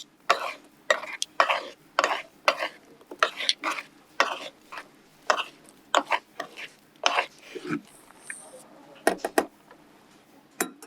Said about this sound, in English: Mix the salad.